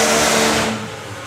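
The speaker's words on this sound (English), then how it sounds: "that's him burning out there with Phil Brainbridge's Rocket" A three-cylinder fuel funny bike, Phil Brainbridge's Rocket, doing a burnout at a drag strip, a loud roaring blast of engine and tyre noise that tapers off within about a second.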